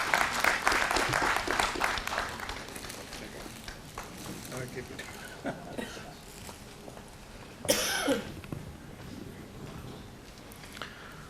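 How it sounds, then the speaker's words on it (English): Audience applause at a leadership summit and awards event in Delhi, a broad burst of clapping in the first couple of seconds that thins out, mixed with coughs and murmuring, followed by a brief louder swell midway. "A huge round of applause, please."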